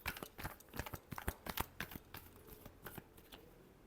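Tarot cards being shuffled by hand, a quick series of soft riffling slaps and papery flicks in bursts, close and fairly quiet with no talking.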